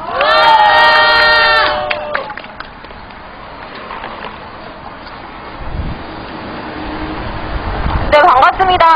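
A rally audience bursts into loud applause and shrill cheering that fades into a dense crowd murmur with wind rumble across the microphone, then rises again with shouts near the end.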